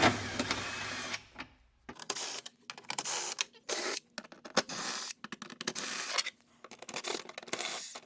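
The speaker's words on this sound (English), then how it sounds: "we need to take out all these Torx" Torx screws being backed out of a body panel on a Polaris RZR XP Pro side-by-side, heard as a run of short whirring driver bursts broken by brief pauses and small clicks, close and fairly quiet with no talking.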